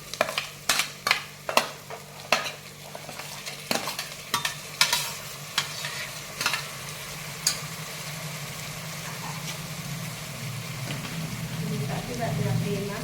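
Cabbage frying for pav bhaji in a pan, with sharp spatula clacks early on that give way to a steady, louder sizzle as tomatoes go in, close and without talk.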